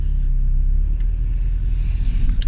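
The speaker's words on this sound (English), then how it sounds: "Why is there so much traffic?" Road traffic heard from inside a moving car, a low steady engine and tyre rumble with a faint passing vehicle whoosh near the end.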